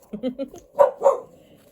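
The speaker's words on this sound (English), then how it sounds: "sorry for the dog." A dog lets out a quick run of short barks, then two louder, sharper ones, close by and heard alone in a quiet room.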